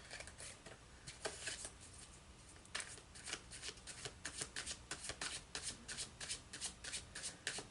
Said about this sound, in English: One more clarifier for Scorpio, please.